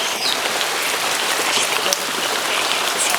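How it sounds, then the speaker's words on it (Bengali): Heavy rain pouring steadily outdoors during a days-long downpour, a dense, loud, even hiss of drops drumming on surfaces with no break. "আবার জোরদার বৃষ্টি পড়া শুরু হয়ে গেল"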